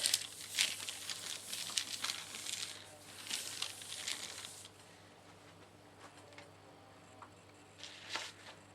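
Crinkly wax paper rubbing and scraping in bursts across a smooth gel printing plate, loud at first then quieter and intermittent, with a steady low hum underneath.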